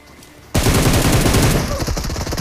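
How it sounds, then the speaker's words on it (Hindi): Gunfire in the mobile shooter BGMI: after a quiet moment, a sudden rapid burst of automatic shots rattles loudly and continuously, close and sharp. "इधर भाई सीधा 2 गोली चलाता है, मेरा पूरा हेलमेट टूट जाता है"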